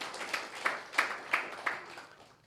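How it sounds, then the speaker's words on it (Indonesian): A church congregation at a Sunday worship service applauds, a short burst of scattered claps with a few sharper peaks, faint and somewhat distant before fading out. "Tepuk tangan dulu buat Tuhan Yesus."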